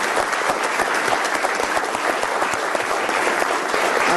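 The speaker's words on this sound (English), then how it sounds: "So give yourselves a round of applause." Steady, dense applause from an audience at a city council meeting honoring band directors and booster parents of the Jackrabbit Band, continuous and loud throughout with no talk over it.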